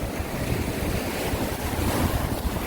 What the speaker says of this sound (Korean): 오늘 파도, 파도가 엄청 높고요